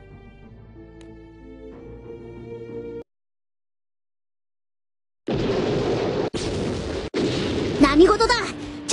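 A loud, rumbling explosion effect from the video game Granblue Fantasy bursts in after soft music and a moment of silence, then continues as a sustained roar broken by short gaps, with a voice briefly over it.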